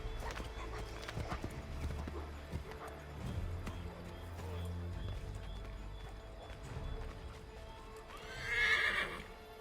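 Horse hooves clip-clop in Assassin's Creed III, a quick rhythmic trot over game ambience, with a horse whinny near the end.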